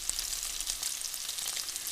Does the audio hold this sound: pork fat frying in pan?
yes